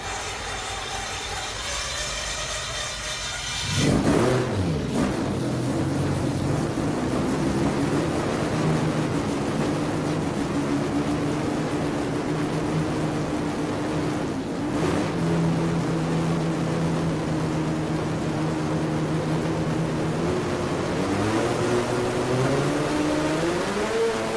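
A Mazda Miata fitted with a 12A rotary engine accelerates under partial throttle while building boost: a steady, buzzing engine drone that rises in pitch after a sudden jump, heard continuously from inside the car.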